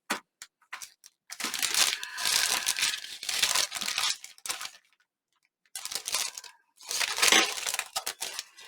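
Paper envelope pockets are rummaged through in bursts, crinkling and rustling with brief clinks, separated by short silent pauses and no talking.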